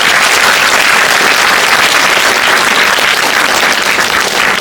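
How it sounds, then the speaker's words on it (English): Dense, loud applause from an audience at a Nobel Prize dialogue at a university, a continuous roar of many hands clapping at once, unbroken for several seconds without speech. "Let us give him a clap or hand for his extreme courage."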